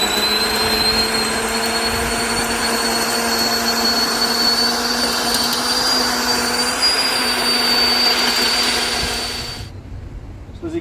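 A Yardworks electric tiller runs steadily with a loud, even motor whine and tonal hum, continuous and close for about ten seconds before cutting out abruptly near the end.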